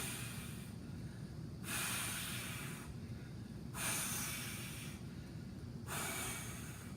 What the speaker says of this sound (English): So up, breathe in and out